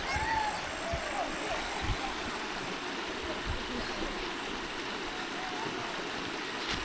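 Strong water flows steadily at a bathing spot in a traditional village in a Lao mountain valley. The rushing sound is continuous and fairly faint, like a stream heard from a distance, and a voice talks over it at times.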